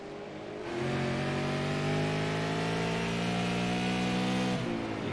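Super late model race cars roar around Thompson Speedway, a loud sustained engine drone with rising pitch as the pack passes close, steady throughout.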